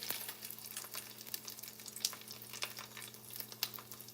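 A tortilla crackles softly in a pan on a stove turned down a bit, with faint irregular sizzling pops and light stirring noises over a low steady hum.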